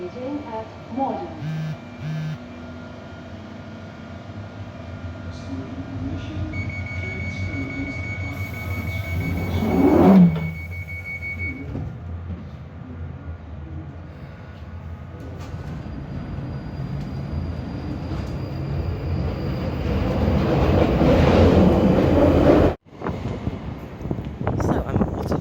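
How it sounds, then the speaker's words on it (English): A London Underground Northern Line train at Waterloo: rumbling wheels and motor whine, a rising screech as it passes, a hissing brake release and a sharp thump near the end, with a voice speaking over it. "This is a Northern Line train terminating at Waterloo."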